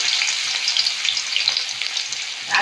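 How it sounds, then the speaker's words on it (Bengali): Banana flower chops (mochar chop) deep-frying in hot oil produce a constant bright, bubbly sizzle with small popping crackles, moderately loud and uninterrupted, with no talking. "সব চপগুলো আমি এইভাবে ভেজে নিয়ে তারপর আপনাদের দেখাবো এইভাবে চপগুলো ভাজবো"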